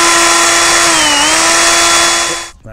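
A power drill whines steadily, close and loud, as it bores into a car door lock motor part clamped in a vise, its pitch dipping briefly under load before the motor spins down and stops.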